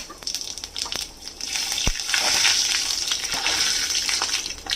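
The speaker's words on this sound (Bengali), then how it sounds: "হালকা ভেজে নেব এটাও ফোড়নের একটা গন্ধ বার হওয়া পর্যন্ত" Panch phoron spices and dry red chilies frying in hot oil after fish has been fried, giving a steady crackling sizzle with sharp pops, close and alone, without speech.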